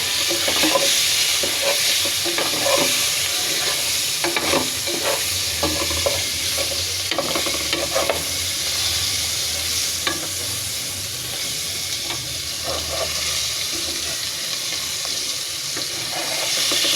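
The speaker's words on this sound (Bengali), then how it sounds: "মাছগুলো ভেজে নিব লবণ আর হলুদে।" Rohu fish pieces frying in oil with salt and turmeric, a steady bright sizzle with occasional stirring clinks and scrapes, fairly quiet and close, with no speech.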